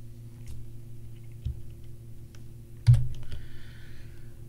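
Soft computer keyboard keys clack in a Linux terminal, a few scattered light taps and then one sharper, louder keystroke, with no one speaking.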